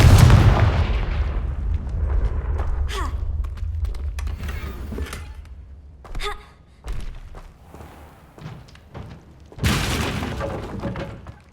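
Confringo blasting spells cast in the Hogwarts Legacy video game, heard as several loud explosive booms and thuds at irregular intervals over a rumbling low background.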